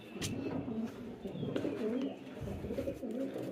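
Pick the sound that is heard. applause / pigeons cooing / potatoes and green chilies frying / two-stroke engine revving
pigeons cooing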